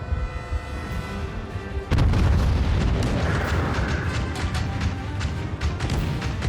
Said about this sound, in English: So I'm gonna go ahead and fire that salvo off